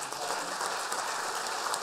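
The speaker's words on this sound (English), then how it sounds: "give them both a big round of applause for getting us off and running in 2019" A conference audience claps in sustained, dense applause after an opening presentation at a cybersecurity event, steady and fairly distant with no voices over it.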